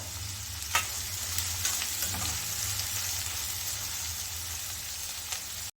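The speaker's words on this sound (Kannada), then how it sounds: "ಈರುಳ್ಳಿನ ಇದಕ್ಕೆ ಸೇರಿಸ್ಕೊಂಡು ಈರುಳ್ಳಿ ಚೆನ್ನಾಗಿ ಫ್ರೈ ಆಗೋವರೆಗೂ ಹುರ್ಕೋಬೇಕಾಗತ್ತೆ" Chopped onions frying in a pan for a chicken gravy, a constant low sizzle with occasional clicks and scrapes of a spatula, moderately quiet and without voices.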